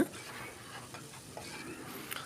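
Chopped tomatoes stirred into onions and garlic in a pot for mutton curry, a soft wet sizzle with a few light spoon scrapes and clicks.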